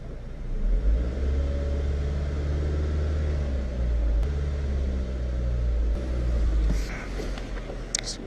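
A 2005 Toyota Camry with a 2AZ-FE engine and weak battery is cranked, giving a loud steady low rumble throughout, with a few faint clicks near the end.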